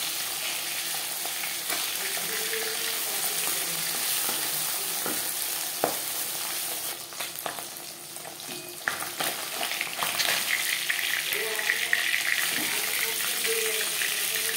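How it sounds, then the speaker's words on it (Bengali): Pabda fish frying lightly in cooking oil in a pan, a steady close sizzle and crackle throughout, with a few soft clinks and scrapes of a utensil and a brief rise in spitting near the end. "মাছ হালকা করে ভেজে নেব।"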